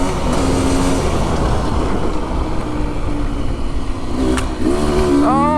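An enduro motorcycle on a wooded moorland trail accelerates hard through a tight corner, the engine revving up loudly and close, rising in pitch toward the end.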